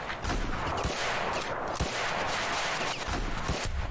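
Gunfire on a Vietnam War battlefield with Viet Cong firing from the hills: dense, crackling shots scattered irregularly over loud, constant battle noise, some sharper cracks standing out.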